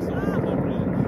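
Helicopter flying over the Palisades wildfire hillside, a low steady rotor drone mixed with wind rumble, fairly near and continuous through the brief moment, with a voice talking over it.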